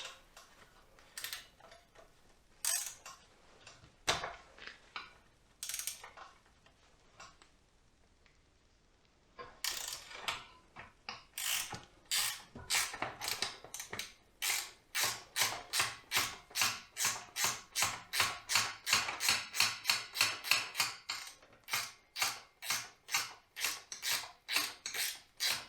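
Bolts being ratcheted out of an armrest on a 1991 Range Rover, sparse clicks at first, then a long run of fast, regular ratchet clicks, close and fairly quiet.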